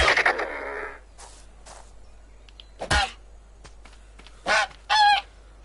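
Chicken-like birds in the ARK video game give short honking, clucking calls, a few separate bursts over a quiet ambient background.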